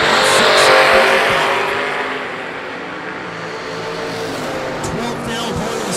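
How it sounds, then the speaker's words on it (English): A Chevelle in the left lane and a second-generation Camaro in the right launch off the starting line at a drag strip, a loud, sustained engine roar with tire noise that peaks early and then holds steady as the cars pull away. "Chevelle, left side, down 603. Right side, second gen Camaro over there."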